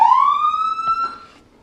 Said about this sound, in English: as soon as I hit third position, the siren will automatically kick on for full code 3